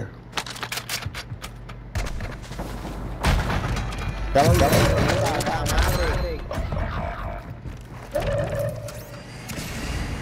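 Gunfire in Call of Duty: Modern Warfare II crackles in short bursts and single shots amid clattering mechanical sounds and booms, with people talking excitedly over it.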